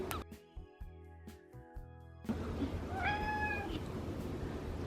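A cat lets out a clear meow over faint background noise, after a few soft taps and clunks.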